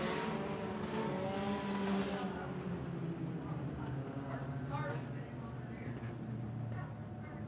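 Race cars in a front-wheel-drive heat race at Crossville Speedway drone continuously as they finish under the checkered flag, engine noise blending in a dense roar with tire sounds, while a PA announcer talks over it.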